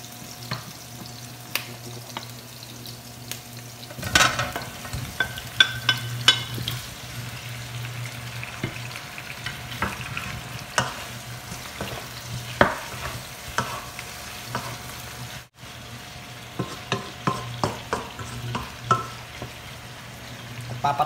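Chicken pieces frying in a pan for spicy Filipino adobo, with a steady sizzle and repeated scraping stirs of a utensil throughout, close and clear, no talk.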